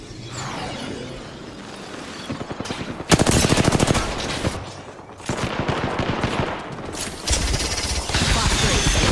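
Bursts of automatic video-game gunfire aimed at the player in a futuristic 2033 shooter, loud rapid volleys that stop and start over several seconds, mixed with game effects and some talk.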